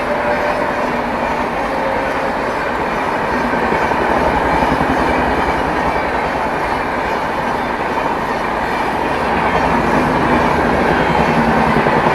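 Mau–Anand Vihar superfast express train arriving at Anand Vihar Terminal, a loud, continuous rumble of rolling coaches with rhythmic wheel clatter and faint squeal, close and unbroken throughout.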